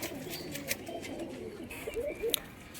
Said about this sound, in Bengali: বাজি করছে কীরকম দেখুন বন্ধুরা এই দুটো পায়রা